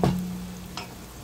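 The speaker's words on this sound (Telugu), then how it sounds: "మనకి ఆనియన్స్ అనేది ఫ్రై అయిపోయినాయి." Onions fry in a pan for an Andhra-style chicken fry. A utensil clinks at the start, then a soft, close sizzle continues with a faint stir partway through.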